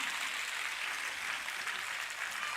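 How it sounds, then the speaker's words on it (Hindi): An audience at a ceremony claps loudly in sustained, dense applause, a continuous wash of many hands with no voices over it. "जोर से ताली बजाइए"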